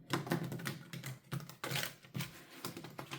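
Tarot cards being shuffled by hand for a monthly reading, a run of quick papery riffles and taps in uneven bursts, close and fairly quiet with short pauses between flurries.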